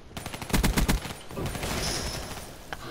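A rapid burst of gunfire from Call of Duty Black Ops III multiplayer rattles out close and punchy, then trails into softer shots and a lingering rumble.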